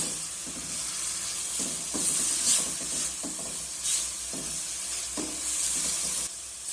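Coconut filling cooked with date-palm jaggery is stirred in a hot pan, giving a steady close sizzle with repeated scraping strokes of the spoon.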